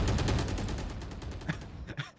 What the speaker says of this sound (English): That's a lot of gunfire this time.